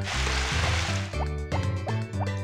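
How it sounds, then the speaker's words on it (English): A watering can pours over crops in Harvest Moon: Back to Nature, a burst of splashing followed by a run of quick bubbly, chiming droplet tones from the game. "Alright, gotta water these two. And then also water these."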